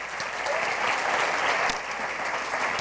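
Congregation in a church applauding after a sermon, dense steady clapping filling the room at a close, even level, with no voices over it.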